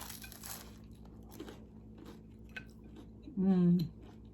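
A homemade light breakfast sandwich in the style of a McGriddle or McMuffin being chewed up close, soft wet squishy bites, with a short hum-like voiced sound near the end.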